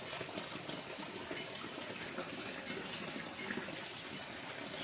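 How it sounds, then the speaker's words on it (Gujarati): Rain begins falling in a steady, even hiss, a dense wash of droplets with no breaks and no voices. "વરસાદ શરૂ થઈ ગયો છે મસ્ત મજાનો"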